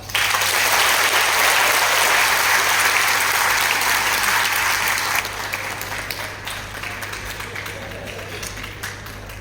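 A large audience at a political swearing-in ceremony in Madhya Pradesh claps loudly and continuously, a dense roar of applause that drops in level about halfway through and carries on more sparsely.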